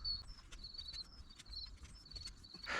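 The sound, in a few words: birds singing in a garden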